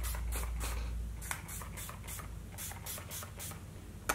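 Setting spray misted over foundation on a face, a series of short soft hissing bursts close by, about ten quick spritzes in irregular clusters with brief pauses between.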